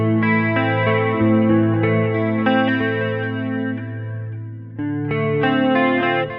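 Distorted electric guitar with a chorus-like shimmer plays sustained chords from a song intro, changing chord shapes without an open-string bridge, loud and alone with a brief gap before the last chord.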